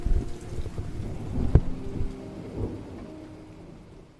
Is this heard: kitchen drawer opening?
no